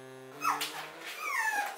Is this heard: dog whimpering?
yes